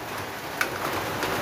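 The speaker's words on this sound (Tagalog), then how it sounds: "maulan." Steady rain falls on a rainy Sunday morning, a dense, even wash of drops on surfaces, close and continuous with no voices.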